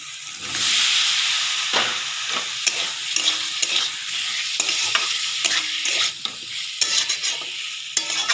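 Potatoes cooking with masala in a pan, loud hissing sizzle with rhythmic scraping and stirring strokes of a spoon against the pan, close, no voices.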